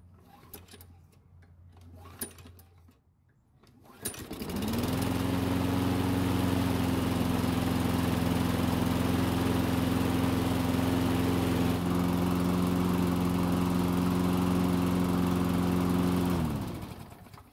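Dumped Toro lawn mower engine starting after a few quiet knocks, then running at a steady loud drone for about twelve seconds before cutting off, with no voices over it.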